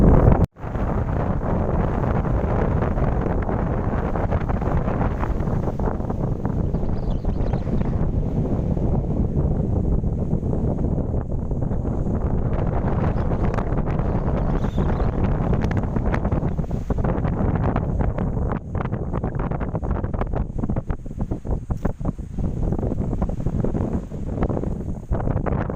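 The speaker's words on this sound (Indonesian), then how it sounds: "Jelas anginnya kencang sekali." Strong wind on the peak of Mount Coppo Tille buffets the microphone in a loud, unbroken roar that lasts nearly half a minute, with no voices heard.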